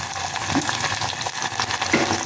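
Small sambar onions sautéing in a pan with green chillies for Tamil aranmanai kuzhambu, a steady close sizzle with faint stirring scrapes and no voices.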